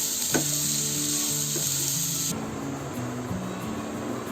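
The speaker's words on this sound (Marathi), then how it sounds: "तर याला चांगलं भाजून काढायचं फुल गॅसवर." Garlic and ginger roasting over a full gas flame give a loud, even sizzle and hiss, with faint music-like tones running underneath and a brief clatter near the start.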